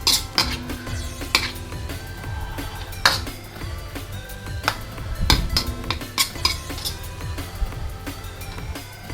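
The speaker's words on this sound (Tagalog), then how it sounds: "So, halu-haluin lang na uli ng konti." A metal spoon clinks and scrapes around a cooking pot of dinuguan meat in irregular bursts, stirring with clattering knocks and faint simmering underneath.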